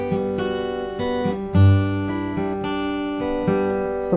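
A fingerpicked acoustic guitar plays a syncopated rolling riff from a song, with a fretted bass note on the sixth string under ringing open strings, clear and close, with no voices.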